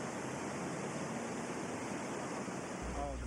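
Swollen Deerfield River floodwater rushes in a steady, loud, broadband roar with no break, a low rumble rising near the end.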